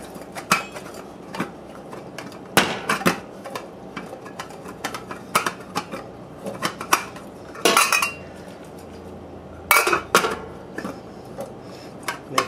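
Vegetables being tossed with salt, pepper and olive oil in a bowl for corned beef and cabbage, with irregular clinks and scrapes of a utensil against the bowl, close and fairly quiet, no talking.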